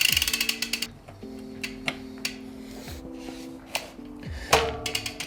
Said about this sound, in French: il faut la dévisser en sens anti-horaire